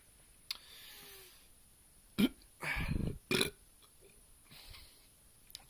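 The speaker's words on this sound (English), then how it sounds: "Two burps already and I ain't even started." A person burps after drinking beer, letting out several close, rough belches, one long and two shorter, with quiet room hiss between them and no speech.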